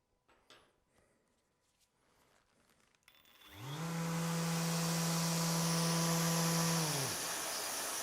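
Festool ETS EC 150 sander with the pad fitted and no brake, starting after a few soft handling noises; the motor rises to a steady whirring whine, then cuts off as the tone begins falling while the pad keeps spinning.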